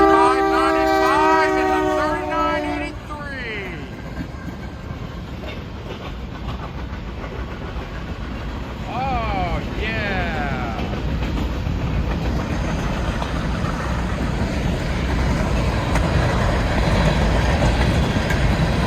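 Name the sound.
BNSF grain train passing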